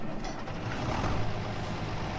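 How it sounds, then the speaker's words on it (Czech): Engine of a new tractor running in the video game Farming Simulator 22, a steady low rumbling drone with a faint mechanical rattle, continuous and fairly close, with no talking. "už to cítím, že ten zvuk motoru je lepší"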